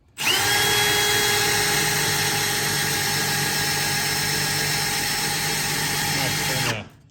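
A cordless power drill fitted with a Christmas tree bit whirs loudly and steadily for several seconds, then cuts off abruptly, during fuel pump replacement on a 2007-2014 Chevrolet Silverado.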